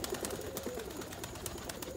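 Breeding pigeons, cockbirds kept as breeders, coo softly and continuously close by, a low murmuring call over a busy background with scattered brief rustles.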